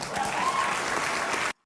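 A studio audience bursts into loud, steady applause and cheering from a TV broadcast, sustained for about a second and a half before cutting off abruptly into silence.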